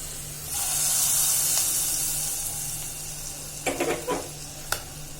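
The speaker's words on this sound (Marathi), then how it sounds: "आता ही फोडणी आपल्याला डाळीवर घालायची" Hot tadka poured over fenugreek dal bursts into a loud sizzling hiss that fades over a few seconds, followed by a few close clinks and scrapes of stirring.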